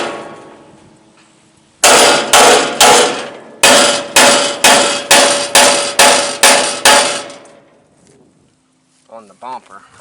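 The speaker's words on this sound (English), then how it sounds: "I need to beat that down with a hammer." Loud, rapid hammer blows clang on sheet metal of a 1979 Ford truck's rear bumper, two strikes then a longer run of about ten, each ringing briefly; a voice follows afterward.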